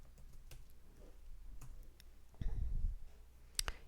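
Someone types into a browser's address bar on a computer keyboard, producing a few sparse, light key clicks and one slightly heavier tap, close by and quiet.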